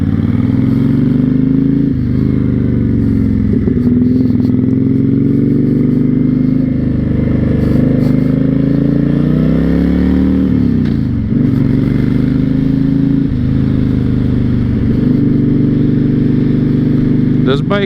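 A 2006 Honda VTX1300 cruiser motorcycle rides steadily with a loud, continuous low engine drone, its pitch rising and dipping with gear changes and throttle, close up and alone.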